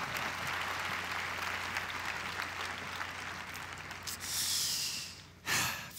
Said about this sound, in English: let's give all 4 of these people a nice round of applause